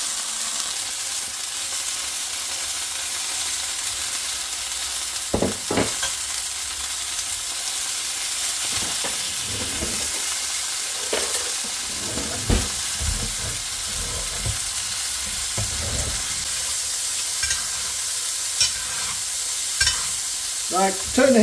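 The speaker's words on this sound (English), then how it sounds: "I'm going to stick some butter in the pan," Sirloin steak frying in a pan over low heat while butter is spooned over it for basting, a steady close sizzle and hiss broken by clinks and scrapes of the spoon and pan, with no talk.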